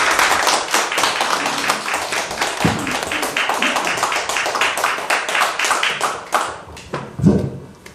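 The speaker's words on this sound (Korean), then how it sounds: "뜨거운 박수로 우리 장 박사님을 모시겠습니다" A small audience claps to welcome a lecturer on stage, close, individually distinct hand claps in a busy, uneven patter that thins toward the end, with a few thumps.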